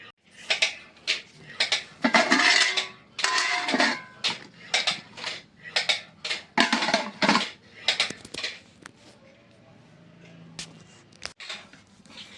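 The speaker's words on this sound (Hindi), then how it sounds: "देखिए यहाँ जूठे बर्तन रखे हैं, ये सब यहाँ से उठाएं।" Dirty dishes picked up in a home kitchen give a run of sharp clinks and clatters, fairly close and moderately loud. The knocks come irregularly and thin out toward the end.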